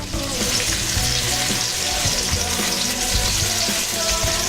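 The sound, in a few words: food searing and sizzling in a frying pan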